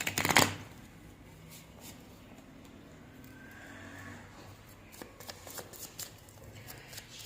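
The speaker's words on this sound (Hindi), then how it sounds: "जब तक मैं कार्ड्स को शफल कर रही हूं" Tarot cards shuffled by hand, with a louder riffle burst at the start followed by quieter, intermittent card handling and soft flicks, close and without talk.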